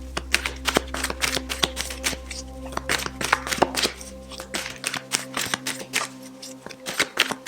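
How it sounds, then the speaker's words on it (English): Tarot cards shuffled by hand in quick, crisp riffles and slaps, a dense run of close snapping flutters over a faint steady hum that drops out partway through. "And you thought you were using the timestamp to get away from the shuffling, Leo?"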